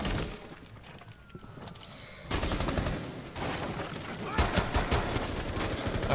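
Video game gunfire crackles in dense bursts, dropping briefly to a quieter stretch before heavy rapid shots and shattering crashes return, loud and close.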